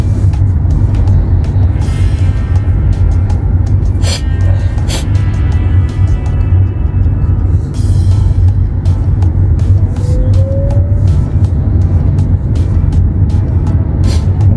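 Steady road traffic on a Hong Kong Island road between Wong Chuk Hang and the Peak, cars and buses passing in a continuous loud rumble with brief higher hisses, no talk.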